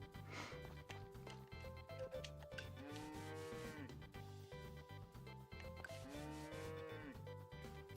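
Cattle mooing in the Story of Seasons farming game, two long drawn-out moos over steady background music, clear and close.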